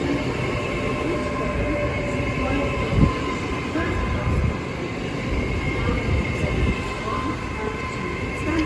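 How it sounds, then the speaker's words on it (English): A Great Western Railway Class 800 train at Reading station on the Great Western Main Line, a steady loud rumble and whine of passing rolling stock throughout, with someone talking over it. "And this is the 11:54 Great Western Railway service from London Paddington to Bristol Temple Meads."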